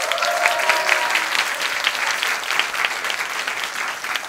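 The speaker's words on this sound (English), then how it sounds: "Let's get a round of applause." A university concert audience in Busan claps loudly and continuously, a dense, even roar of many hands filling the hall for several seconds, with no voices over it.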